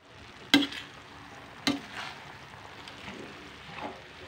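Sautéed vegetables are tipped and stirred in a frying pan for miki guisado, two sharp metallic clinks of a utensil against the pan, then a soft, low sizzle with faint scraping strokes.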